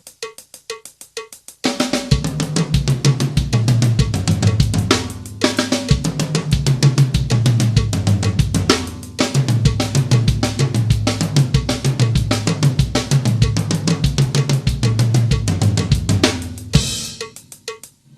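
A drum kit played with sticks in fast, steady rolling triplet groupings of strokes moving around drums and a bright metallic accent, loud and close, no talking.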